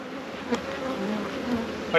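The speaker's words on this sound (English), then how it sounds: "I can tell the bee population is coming up" Honey bees in a new hive during an inspection give off a soft, steady hum, fairly close, with a couple of brief louder buzzes as individual bees pass near.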